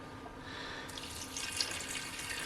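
Ice-cold water runs from a kitchen tap in a steady, close stream that swells louder partway through, heard alone without voices.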